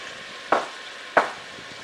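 Two short scraping stirs of onion in a frying pan, each a quick close swish and sizzle, spaced about half a second apart over a faint steady background.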